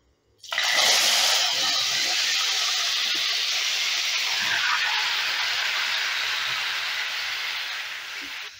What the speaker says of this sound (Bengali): এবারে দিয়ে দিচ্ছি কেটে রাখা টমেটো।